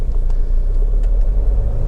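Honda Civic 2.2 i-CTDi SE diesel on a road test, a steady low rumble of engine and road noise heard from inside the car, with no talking.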